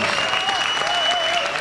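Audience applause welcoming Orhan Gencebay, a brief burst of dense, even clapping with a faint voice or tone running underneath.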